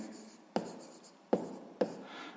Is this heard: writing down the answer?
yes